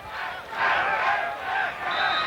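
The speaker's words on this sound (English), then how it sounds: "Fans chanting, Ak." Fans at a beach volleyball match at the 1995 AVP Manhattan Open chant in unison from a distance, a rolling crowd roar with two swelling pulses that stays steady and fills the whole moment.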